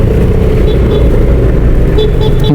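Heavy road traffic in Sto. Tomas, Batangas: a steady, loud low rumble of car and vehicle engines close by, with a faint higher whine drifting in and out.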